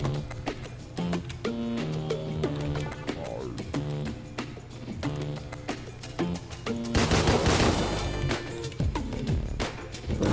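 Rapid gunfire bursts from the top-down shooter Deadbolt, sharp repeated shots over steady game music, with a louder, denser crash of fire near the end.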